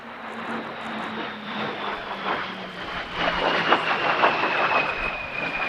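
A 1940s jet aircraft flies past at an outdoor airshow, its broad engine roar and whine rising and falling in pitch as it moves across the sky at a distance, steady and continuous.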